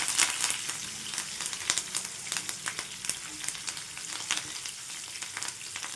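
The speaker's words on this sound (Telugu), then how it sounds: "ఇందులో కొద్దిగా కరివేపాకు ఉంది వేసుకొని మంచి బ్రౌన్ కలర్ వచ్చేంత వరకు ఫ్రై చేసుకోవాలి." Onions and curry leaves frying in hot oil for a chutney, a dense steady sizzle with crackling pops and occasional stirring, close and fairly loud throughout with no talk.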